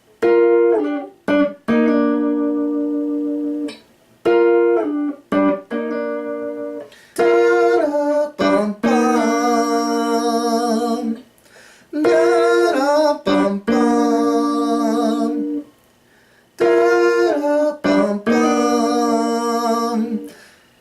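A tapped guitar melody with a lower second line underneath, bright plucked notes in short phrases separated by brief pauses.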